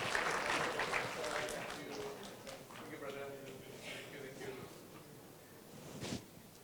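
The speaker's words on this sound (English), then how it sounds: "a round of applause once again to our panel" A conference audience applauds a panel at a tripartite dialogue event, a broad wash of clapping that is fairly steady and gradually thins, with a brief louder burst near the end and some voices mixed in.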